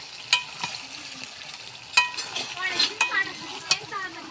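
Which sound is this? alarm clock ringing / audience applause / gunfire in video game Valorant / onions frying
onions frying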